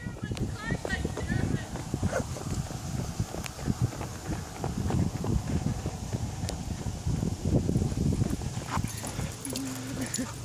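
Goats fighting close by, hooves clattering in busy repeated clops and scuffles on hard ground, with people talking and calling out over the commotion.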